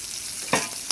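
Chopped onions fry in oil while being stirred, a steady broadband sizzle broken by two brief louder scraping strokes of the spoon, close up with no voices.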